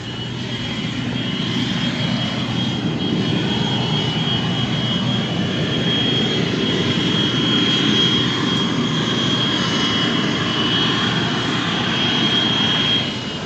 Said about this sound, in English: I love the smell of J57 exhaust in the morning.